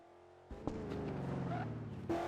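A car drives past in the Garry's Mod DarkRP video game: a steady, buzzing engine tone starts abruptly and holds at close range, with a brief sharper burst near the end.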